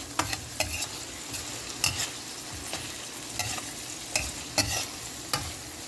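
Mussels with mushrooms, soy sauce and oyster sauce stirred in a hot pan, with a low sizzle under a series of sharp scraping clacks from the utensil at irregular intervals, heard up close with no speech.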